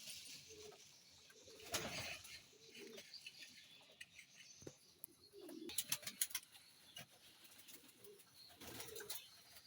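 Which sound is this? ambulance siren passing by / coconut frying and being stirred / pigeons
pigeons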